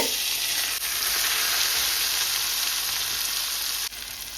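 Semolina roasting in ghee and a spoon of butter in a pan on a medium flame gives a steady, close sizzle and hiss, with faint stirring scrapes.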